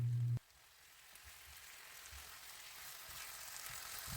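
Chicken sautéing with curry powder in oil makes a soft, steady frying hiss that slowly grows louder, heard after a brief low hum cuts off at the start.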